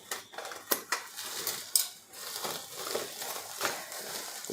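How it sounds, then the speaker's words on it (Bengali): A parcel holding a gas safety device is cut open for unboxing, giving faint scratchy scraping and crinkling of packaging with a few sharp clicks, close and quiet. "এটাকে আমরা আনবক্সিং করার জন্য কাটছি।"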